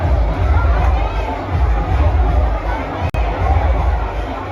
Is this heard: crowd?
yes